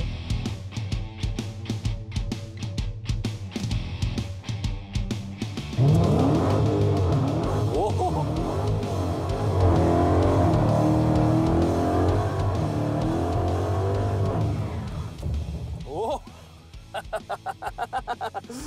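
A Dodge Challenger SRT Hellcat launches hard with wheelspin, its supercharged engine bursting into a loud sustained roar and rising rev sweeps over screeching tires for about ten seconds before dropping off, after quieter idle and interior rumble.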